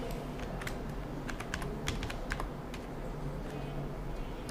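Steady clatter of keys on a computer keyboard as a channel name is typed, quick irregular taps over a constant low background hum, close and fairly quiet.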